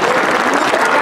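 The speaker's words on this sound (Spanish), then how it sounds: "Denle el aplauso a la Santísima Virgen María." Crowd applause honoring the Holy Virgin Mary at the feast of the Purísima Concepción in Ixcuintepec, a steady dense wash of clapping filling the whole second with no pauses.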